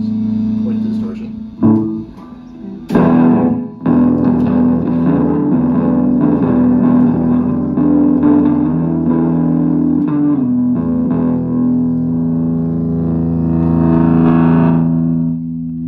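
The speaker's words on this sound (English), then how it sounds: "We're going to turn down the distortion because it's quite the distortion." Electric guitar played through a Raspberry Pi amplifier with heavy distortion, sustained buzzing chords that ring on, with someone talking over the start.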